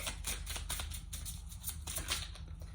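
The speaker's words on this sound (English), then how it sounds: "let's have a little shuffle of this deck" A deck of oracle cards is shuffled close by, giving a quiet, steady run of soft papery riffling clicks with no talking.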